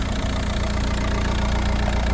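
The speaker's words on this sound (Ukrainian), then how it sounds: "Мотор працює рівно, стабільно, справно" Volkswagen Passat engine idling smoothly and steadily, a continuous low rumble heard close up and fairly loud, with no talk over it.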